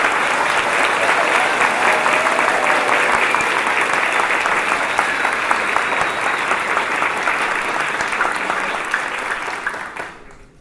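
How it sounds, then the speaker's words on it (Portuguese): Sustained audience applause at a bicentenary celebration of Bahá'u'lláh, a full room clapping steadily and loudly for about ten seconds before cutting off abruptly. "A este querido companheiro pedimos também uma salva de palmas."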